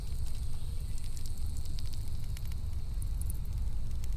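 Campfire burning in the survival game The Infected, a continuous low roar with soft crackles and faint high ticks, steady and close, no voices.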